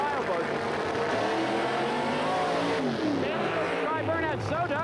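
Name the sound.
1987 Ford Taurus station wagon drag racing down the track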